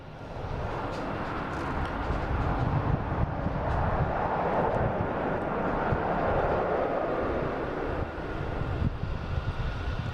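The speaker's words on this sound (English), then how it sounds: "And we got Swiss landing while I'm trying to say thank you." A Swiss airliner coming in to land at Boston Logan Airport makes a continuous low roar, steady for the whole stretch, mixed with wind buffeting on the microphone.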